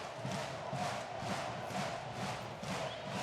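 An arena crowd at a Banvit v AS Monaco Basketball Champions League quarter-final chants in a rhythmic, pulsing pattern, swelling about once every half second and steady throughout, with no talking.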